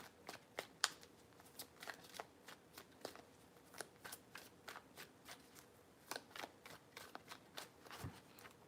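A deck of tarot cards is shuffled by hand in a quiet room. The riffling comes as a rapid series of soft, crisp flicks and snaps in uneven bursts, close and faint.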